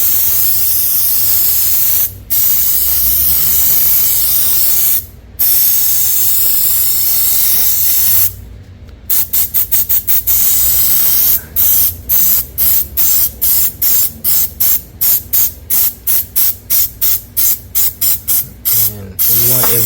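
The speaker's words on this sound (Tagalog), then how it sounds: "So, I was able to spray the back." Contact cleaner sprayed over water-soaked car parts such as the ECU, engine block and floor mats of a flood-damaged Honda SiR: loud hissing aerosol bursts, a few long blasts at first and then a fast run of short, rhythmic spurts.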